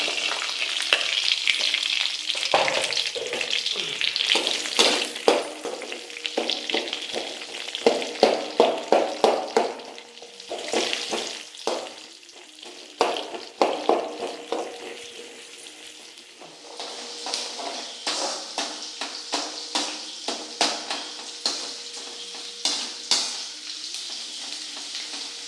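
Onion fries in hot oil for a chickpea curry. Steady close sizzling runs throughout, broken by repeated scraping and clinking as a utensil stirs it around the pan.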